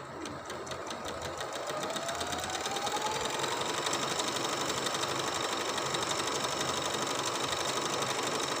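A sewing machine runs steadily on trouser fabric, a continuous fast whirring stitch that holds loud and even for the whole stretch without a break.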